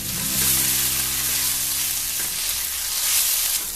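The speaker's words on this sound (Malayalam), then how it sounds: "ഇനി ഈ പൊടികളുടെ പച്ച മണം മാറുന്ന വരെ നന്നായിട്ട് വഴറ്റിയെടുക്കണം" Chili powder and coriander powder sauté in a hot pan for Thalassery egg biryani, a steady bright hiss of frying that rises and dips slightly across the few seconds.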